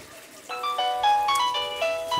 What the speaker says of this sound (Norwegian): Faen, der ringer telefonen.